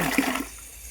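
Water rushes into an 8 by 44 inch resin water filter tank during a salt-water cleaning, a loud splashing gush at first that quickly settles into a steadier, quieter flow.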